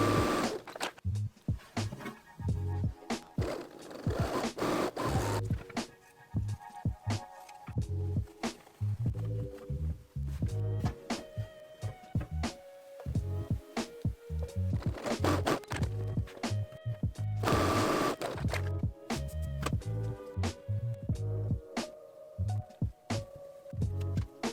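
A sewing machine runs through muslin dress fabric in repeated bursts of rapid stitching, pausing briefly between runs, close and steady throughout with no talk.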